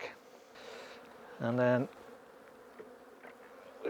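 Honey bees hum in a steady buzz while a beekeeper moves frames in a hive, with a short louder burst in the middle and a brief spoken phrase in between.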